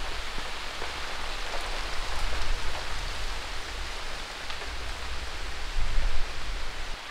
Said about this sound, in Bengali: দেখুন প্রচন্ড হাওয়া উঠছে।